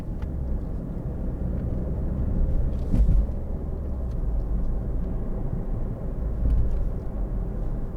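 A 2013 Ford Focus 1.6 TDCi ECOnetic diesel rounding a roundabout, heard from inside as a steady low engine and road drone with slight swells, no voices.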